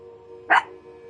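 A single short dog bark rings out clearly over a steady low background hum, close and fairly loud, in a game's indoor chamber setting.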